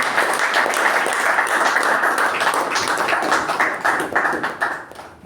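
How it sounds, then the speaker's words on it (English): A Toastmasters meeting audience claps in a steady round of applause for a speaker and evaluator, continuous and fairly close, trailing off into scattered claps near the end. "we shall be giving that special round of applause to both the speaker and the evaluator for doing the work"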